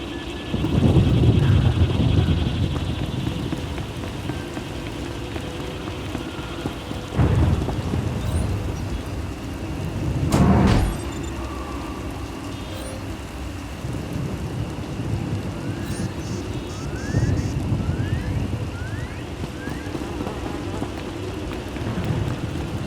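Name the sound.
rain and thunderstorm in Star Wars: The Old Republic video game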